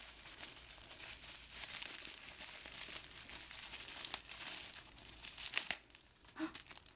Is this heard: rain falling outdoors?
no